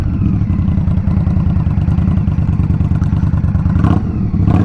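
A 2023 Indian Scout Rogue V-twin motorcycle engine runs loud and close for the whole stretch, with a deep, steady throbbing rumble and mechanical clatter, and no talk over it.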